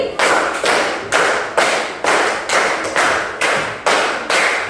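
Schoolchildren in a classroom clap the five-clap concentration pattern twice in a row, producing ten loud, crisp group claps in a steady rhythm, with no voices over them.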